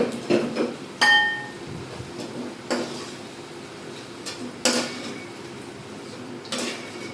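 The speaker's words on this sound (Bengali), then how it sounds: "আলুটাকে নামিয়ে নেব।" Fried potatoes are lifted out of a pan with a utensil, giving a handful of sharp, scattered metallic clinks and scrapes against the cookware at irregular intervals, close by with quiet gaps between.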